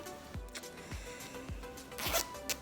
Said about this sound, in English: Zips all the way down